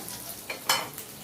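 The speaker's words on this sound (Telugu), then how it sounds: "కొంచెం కరివేపాకు, వెల్లుల్లిపాయలు వేసుకోవాలండి" Curry leaves and garlic tossed into hot oil for a moringa leaf fry, giving short sizzling bursts as they are stirred in the pan, close and moderately loud, with no talking.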